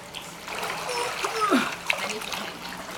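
A kitten swimming in water, paddling and splashing in small irregular bursts, with a person's voice speaking encouragement over it nearby.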